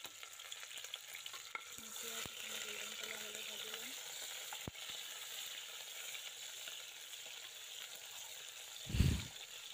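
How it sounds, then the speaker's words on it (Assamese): Sliced onions frying in hot refined oil with two cloves and a cinnamon stick, a soft, steady sizzling hiss with a few faint clicks of stirring and one brief low thump near the end. "মই ধুনীয়াকৈ পেজখিনি ভাজি লৈছোঁ ৰিফাইনত মানে পেজখিনি যাতে গোল্ডেন কালাৰ হৈ যায়"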